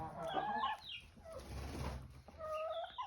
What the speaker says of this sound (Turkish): Tavuklara nar verdik.